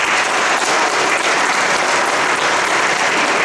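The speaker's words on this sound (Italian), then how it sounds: "vi chiedo un applauso per il grande Luigi Baldacci." Loud, dense applause from an audience at a literary criticism award ceremony in Tarquinia, honouring a late critic, steady and sustained throughout with no talking.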